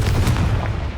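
A Confringo blasting spell detonates in Hogwarts Legacy, a loud, punchy burst that rumbles low for about a second. A few sharp crackles sit on top.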